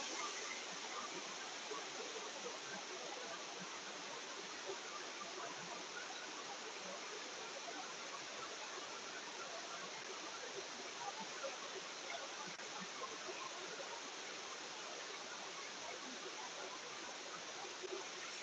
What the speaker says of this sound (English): Another view of that beautiful waterfall.